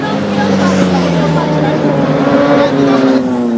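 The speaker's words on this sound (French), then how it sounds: "Des vrombissements de moteurs, des cris d'enthousiasme" Motorcycle engines roar at a Grand Prix race at the Olembe sports complex, a loud, steady revving drone with a gliding pitch as machines pass close by.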